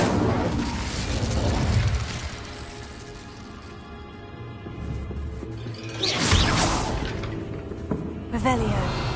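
An Incendio fire spell cast in a Hogwarts game, whooshing bursts of flame with booming crackle, loud and near, swelling in waves with a voice heard briefly.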